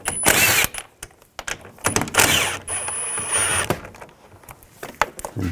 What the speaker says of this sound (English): I'll take these nuts out using a 10mm socket.